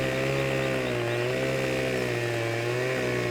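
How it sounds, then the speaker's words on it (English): A chainsaw cuts logs during forestry work in the Farming Simulator 17 video game, with a loud, steady, buzzing engine drone that holds one pitch with slight wavers and never stops for the whole stretch. "I'm going to square my chainsaw up with it a little bit."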